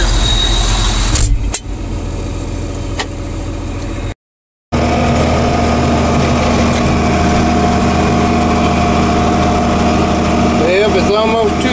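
A tractor engine runs loud and steady while drilling wheat in a field late at night. The droning hum is briefly interrupted, and someone talks nearby.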